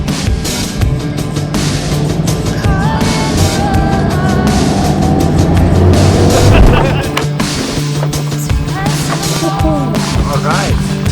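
A car drives between photography tour locations, a steady rumbling road and engine noise with bumps and rattles throughout, heard from inside the vehicle, with people talking over it.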